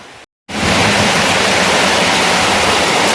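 Heavy rain pours down after a sudden downpour outdoors, a loud, steady roaring wash that starts abruptly after a brief silence and continues unbroken.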